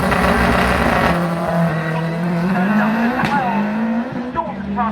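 A tin-top saloon race car climbs the Shelsley Walsh hill climb course at full throttle, its loud, steady engine roar sweeping up in pitch through gear changes, with brief tyre squeal, close and dominant throughout.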